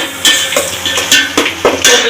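Chicken fried rice being stirred in a pan, with loud repeated metallic scrapes and clanks of the spatula against the pan in a quick irregular rhythm over a faint sizzle.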